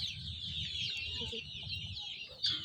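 A flock of about 200 forty-day-old chickens gives dense, continuous high cheeping and clucking at feeding time, steady throughout, with a low murmur underneath.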